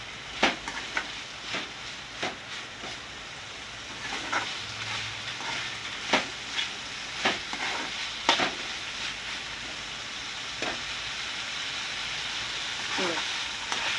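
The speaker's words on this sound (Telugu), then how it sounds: "బాగా ఫ్రై అయిపోయింది ఇదంతా, ఆయిల్ అంతా పక్కకు వచ్చేస్తుంది" Chilli chicken frying in oil, a steady close sizzle with sharp scraping stirs and clacks of a spatula against the pan recurring every second or two throughout.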